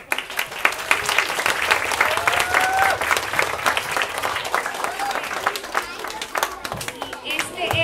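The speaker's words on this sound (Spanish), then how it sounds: "Un aplauso." Steady applause from a crowd, dense clapping filling the whole stretch at an even loudness with a few voices mixed in.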